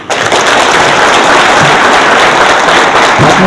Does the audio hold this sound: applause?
yes